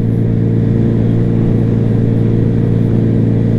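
Honda Spacy scooter fitted with a two-cylinder exhaust, heard while riding: a steady, loud, droning engine note with a constant low hum, close up and without talk.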